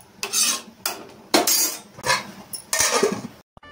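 Metal clanks and scrapes from a pot of drumstick gravy being stirred and covered with its lid: a series of close clinks and knocks, ending with a sharp tap before silence.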